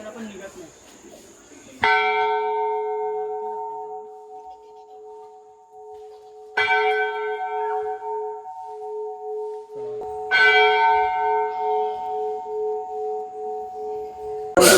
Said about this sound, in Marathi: आता मी तुम्हाला घंटी वाजून दाखवतो